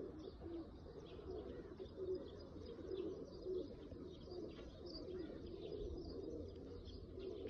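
Oman Teddy pigeons coo softly and repeatedly in a quiet room, low gentle calls in a loose rhythm over faint background noise.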